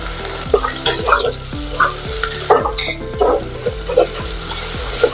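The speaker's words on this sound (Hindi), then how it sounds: "अदरक और लहसुन भी भुन गया है" Ginger and garlic sizzle and crackle steadily in a hot pan, with repeated stirring scrapes in a regular rhythm; no one speaks.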